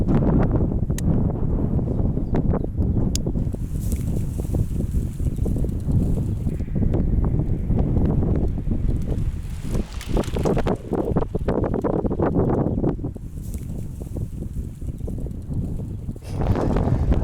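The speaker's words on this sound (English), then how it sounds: "Now you hear a very strong noise from the wind." Strong wind roars into the microphone while riding outdoors, a loud, constant rushing buffet that fills the whole stretch with brief lulls and gusts.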